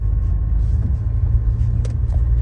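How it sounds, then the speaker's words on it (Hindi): A car pulls away and drives on, its engine and road rumble heavy and steady up close, with no clear acceleration peak and no talking over it. "चलें जी अब ना गाड़ी चल पड़ी है"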